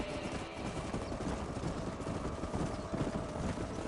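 Galloping horses in Red Dead Redemption 2 pound out a dense, steady clip-clop of hooves, loud and continuous throughout, layered over a rumbling in-game soundscape.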